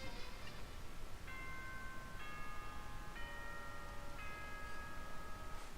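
A soft, electronic chime rings out in the Danganronpa video game, several layered bell-like tones stepping one after another over faint background hiss.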